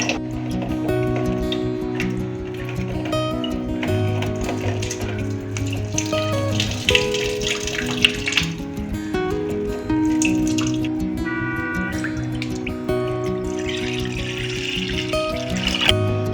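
Water runs and drips over freshly made chhana curds as they are rinsed to remove the vinegar sourness in a home kitchen, a continuous wet trickle beneath steady tonal background sounds.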